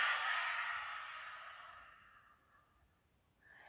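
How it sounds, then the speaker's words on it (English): A single forceful open-mouth exhale during yoga breathing practice, a long, close, breathy rush that fades steadily, then a faint breath at the very end; no talking. "Open mouth, exhale, stick the tongue out, roll the eyes up."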